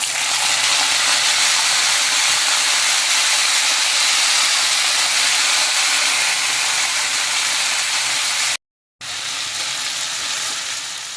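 Loud, steady sizzling of chicken frying with curry leaves in a hot pan, a constant hiss that cuts out briefly near the end and then resumes.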